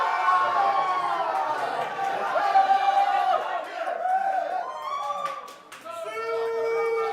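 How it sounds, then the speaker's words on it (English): A Dutch crowd at a poker final table in a World Series of Poker Europe No-Limit Hold'em event cheering and shouting excitedly, sustained loud voices that dip briefly and swell again. "And the Dutch crowd going insane"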